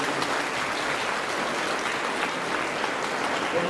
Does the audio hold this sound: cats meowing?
no